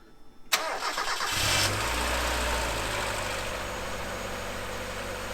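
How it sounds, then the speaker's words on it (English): A 1995 Mazda Miata engine, freshly serviced with new spark plugs and oil, cranks briefly, catches, and revs up before settling into a steady, rumbling idle, close and fairly loud. "Let's start her up."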